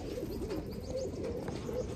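Pigeons kept by a fancier murmur with soft, repeated throaty cooing, faint and somewhat distant under a steady background hiss, with no talking over it.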